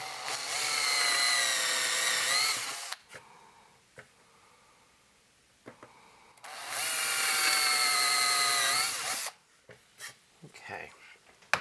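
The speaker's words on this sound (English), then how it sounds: "So we have the back holes drilled" Power drill boring holes in a metal chassis while building a 1930s Globe tube amp: two loud, sustained whining runs of about three seconds each, separated by quieter handling clicks and taps.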